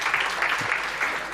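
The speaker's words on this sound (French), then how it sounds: "On a également la chance d'avoir avec nous Yazid Halal, que vous pouvez aussi applaudir" An audience claps for Yazid Halal, BNP Paribas's head of digital IT, in a brief burst of steady, moderately loud applause.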